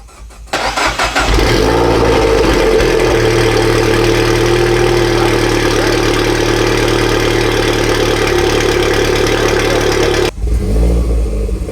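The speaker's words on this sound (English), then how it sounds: "It's now bright outside and it's time to get a proper first cold start." Decatted R56 JCW Mini engine cold-starting: a starter crank, then a loud sustained high idle with a deep steady drone, heard from inside the car before cutting off near the end.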